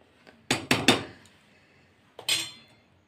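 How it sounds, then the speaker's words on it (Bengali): A spoon stirring milk and powdered milk in a pot: a quick cluster of three sharp metallic clinks, a pause, then one more clink, all close and clear with no talk. "এটাকে একটু ভালো করে আমি আগে একটু নেড়ে নিই।"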